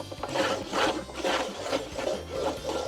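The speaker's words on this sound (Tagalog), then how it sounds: "syempre kakat na natin siya using our sliding cutter" Sliding paper cutter slicing through thick scratch card stock, a close rasping scrape repeated in several rhythmic strokes.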